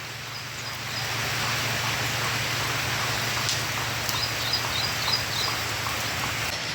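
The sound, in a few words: rain falling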